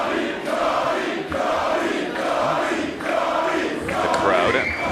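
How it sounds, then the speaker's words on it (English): Wrestling crowd at an independent submission match cheering for Johnny Richards, a dense, continuous roar of voices swelling in waves, fairly loud and without a break. "Crowd getting behind Johnny Richards."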